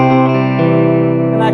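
Electric guitar through a Bogner Ecstasy Mini amp on its brightest setting, one sustained chord ringing out loud and close with a slight effects shimmer, no talk.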